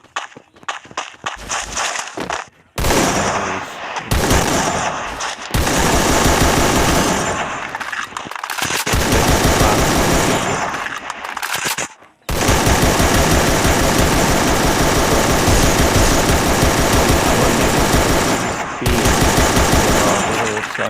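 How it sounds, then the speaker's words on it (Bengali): An AK47 machine gun fires in a video game in long sustained automatic bursts, loud and close, with brief gaps and some earlier scattered shots, no voices. "আমি মেশিন গান চালাচ্ছি"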